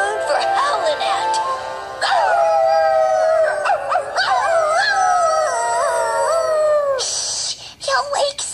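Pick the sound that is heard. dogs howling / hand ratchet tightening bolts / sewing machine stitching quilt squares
dogs howling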